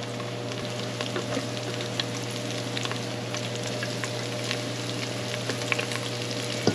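Flour-coated chicken livers fry in a pan for smothered livers and onions, with a steady close sizzle and scattered pops and crackles throughout.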